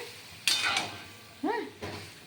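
A metal utensil stirs pui shak posto, Malabar spinach in poppy seed paste, in a pot, making three distinct close clanks and scrapes against the pot over a quiet background.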